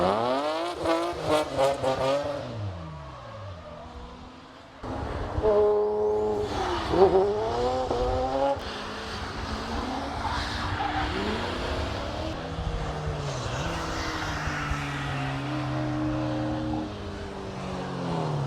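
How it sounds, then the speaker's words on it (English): A Ford Escort van races on a soaking-wet circuit, its engine climbing and shifting through the gears, mixed with other race cars passing, tyre hiss and skidding, moving from near to farther off. "look at the Escort van going for it."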